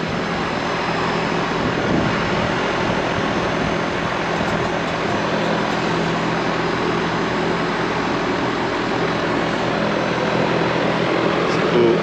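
A new Goodman 4-ton central air conditioner unit runs after replacing an old Trane system, giving a loud, steady broadband roar of fan and compressor that holds unchanged for the whole stretch.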